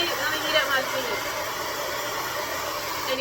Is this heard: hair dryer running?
yes